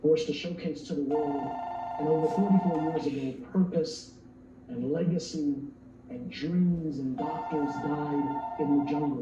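A telephone rings in a room with a repeated electronic trill in two bursts, moderately loud behind a man giving a speech.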